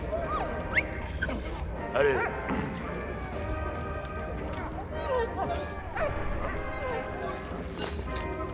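A dog barks and yips several times in the World War One video game Valiant Hearts: The Great War, the short barks rising over a busy bed of game music and effects.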